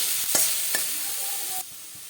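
Radish chhechki with turmeric, salt and a little sugar frying in a pan, a steady close sizzle with a couple of quick stirring scrapes, then cutting off sharply as the lid goes on.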